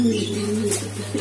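A homing pigeon coos in a low, soft, steady call close by, with a faint hum underneath.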